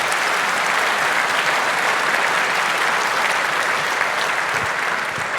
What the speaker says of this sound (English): But before that, another round of applause.